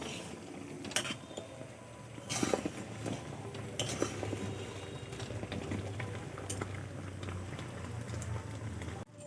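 Sugar syrup bubbles gently in a pan with fried dough pieces, a faint low simmer with occasional soft clinks and knocks of a utensil against metal.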